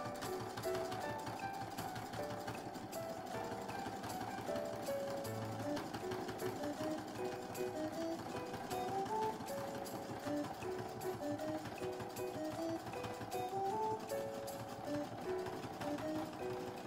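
A sewing machine stitches a buttonhole with a steady, rapid mechanical clatter and whir that runs unbroken from start to finish, close and moderately loud.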